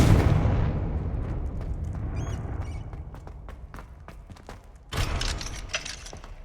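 Confringo blasting spell explosions in Hogwarts Legacy: a loud initial blast with a decaying rumble and scattered crackling debris, then a second sharp burst near the end followed by more crackling, no voices.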